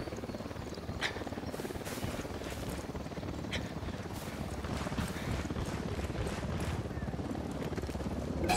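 A helicopter in the game Ghost Recon Wildlands gives off a steady rotor drone with a rhythmic chop, heard at moderate level under wind-like noise for the whole stretch.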